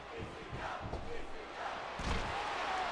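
A virtual arena crowd roars and chants in a wrestling video game's Extreme Rules match, a steady broadband swell that builds and grows louder toward the end, with a commentator talking over it.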